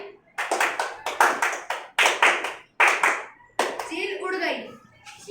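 Three children clap their hands together in a run of sharp, fairly loud claps, several separate bursts with a short pause between them, followed by a softer rustle at the end.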